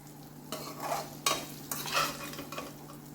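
Crispy fried okra lifted out of a pan of hot oil, with soft sizzling and a few scraping stirs of a utensil in bursts, close and moderately quiet, no talking.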